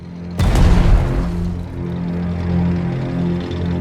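Artillery firing in the strategy video game Strategic Mind: Fight for Freedom: a single sudden loud boom with a heavy low rumble that rolls on and slowly decays over several seconds, alone without talk.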